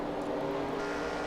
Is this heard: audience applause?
no